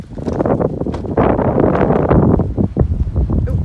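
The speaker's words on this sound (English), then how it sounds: "Oh my goodness, it's windy." Strong wind buffets a handheld microphone outdoors at a Civil War battlefield, a loud, rough, continuous rumble of gusts that swells and roars for several seconds with no clear speech.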